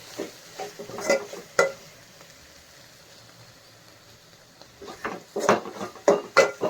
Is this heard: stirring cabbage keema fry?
yes